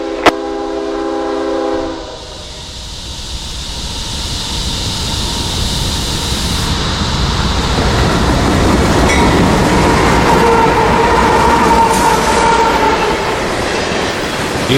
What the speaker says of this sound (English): It was K423, ethanol loads coming off the Canadian Pacific in Chicago to Tampa's Hookers Point fuel terminals.